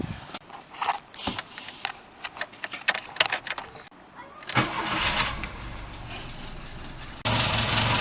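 A Volkswagen Golf Mk2 fitted with a new exhaust muffler starts up with several uneven bursts and clatters, then settles into a steady, even idle that is fairly quiet and close, rising slightly in level near the end.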